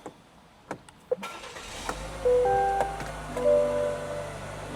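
A Buick's turbocharged 2-liter four-cylinder engine cranks and catches after a few clicks and thumps, then settles into a steady idle with a faint whine.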